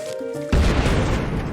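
A Cherry Bomb exploding on a zombie bobsled in Plants vs. Zombies: a single sudden loud boom after a short musical lead-in, its rumbling crash sustaining to the end.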